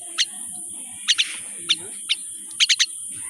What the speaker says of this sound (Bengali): পাখিটি দেখুন আমার পোষ মানেছে